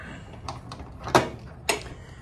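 A shed door on a mobile home property swings open with a couple of sharp clatters and thuds over a faint background, close by and fairly loud for a brief moment.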